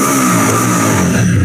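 A 2024 TVS Apache RTR 160 4V motorcycle with about 9000 km revving steadily, a loud, close, continuous engine drone holding a constant pitch with no speech.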